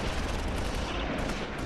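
Video game gunfire from Close Combat IV forms a dense, continuous crackle of distant shots and bullets with no clear gaps.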